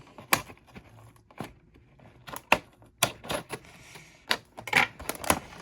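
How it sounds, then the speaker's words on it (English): Scissors cutting an action figure free of its plastic packaging, sharp irregular snips and crackling plastic clicks in uneven bursts, close and crisp against a quiet background. "we're just going to cut her out of the package here"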